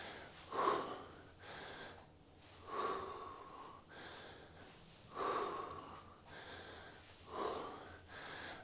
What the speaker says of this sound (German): Und atmen nicht vergessen, ihr hört es bei mir.